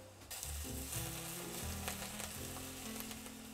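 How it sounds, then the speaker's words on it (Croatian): Smoking-hot oil poured from a pan onto garlic sizzles and crackles loudly and close, a steady hiss holding for several seconds with no talking. "Tek onda mi možemo to da nalijemo baš na beli luk u udubljenje."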